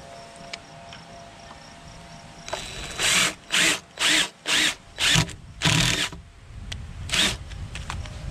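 Power drill driving screws into a wooden horizontal beehive, a run of five short, loud, evenly spaced whirring bursts followed by a longer one and a final brief burst, close to the microphone.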